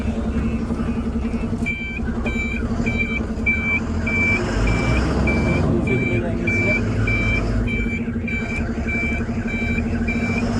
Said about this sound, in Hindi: रिवर्स गियर पे जो हॉर्न मतलब बजने लगता है, साउंड करता है वो